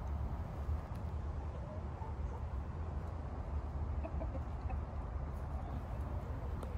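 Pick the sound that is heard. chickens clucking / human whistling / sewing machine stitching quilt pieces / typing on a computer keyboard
chickens clucking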